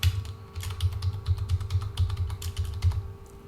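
A username and password are typed on a computer keyboard as a steady run of close, quick key clicks with brief pauses between bursts.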